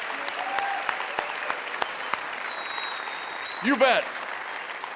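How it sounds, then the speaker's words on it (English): Audience applause for the 2023 inductee class at the Riverside Sport Hall of Fame induction ceremony, a steady, moderately distant patter of many hands under a voice speaking briefly. "Let's have one final round of applause for our inductee class of 2023."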